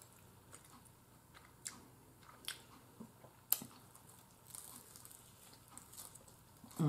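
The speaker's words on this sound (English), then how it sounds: "And that crust got that crunch." Someone bites into crunchy Pizza Hut pizza crust and chews, quiet close-up crunches and squishy mouth sounds spaced every second or so against near silence.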